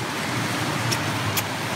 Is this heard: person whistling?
no